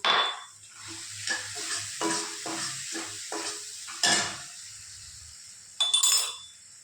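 Garlic and ginger fry in a pan with yogurt as a utensil stirs them, giving soft sizzling under a string of scraping strokes and light metal clinks, with a couple of sharper clanks near the end.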